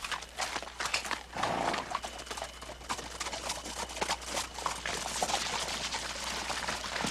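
Horse hooves clop steadily on a hard surface, close by, amid a busy outdoor background with rustling and faint noise.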